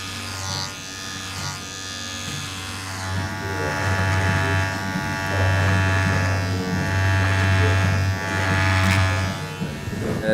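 A barber's electric clippers trim around a customer's ears and eyebrows, a close, steady buzzing hum that drops and returns in short passes, with a voice speaking over it.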